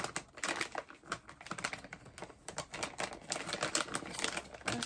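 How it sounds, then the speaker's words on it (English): Scissors cut open a Korean snack bag up close, giving a run of crisp, clicky snips and crinkling plastic for about five seconds with no talking. "Grab a pair of scissors so I can just cut it open so I don't rip the bag."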